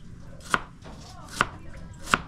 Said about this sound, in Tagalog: Tapos gayat din tayo ito sibuyas.